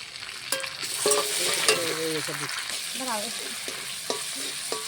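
Cabbage cooks in a pan with ginger paste, chili paste, dried chili and bay leaf, with a steady sizzle and scraping stirs, while a voice chatters intermittently over it.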